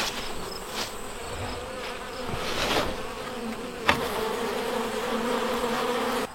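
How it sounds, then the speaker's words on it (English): Calm honeybees fly around their hive, a soft continuous buzz of many wings close by, with individual bees droning past and a brief sharp knock partway through. "the bees will finish cleaning this up, and then the ones that are out here will go back into the hive"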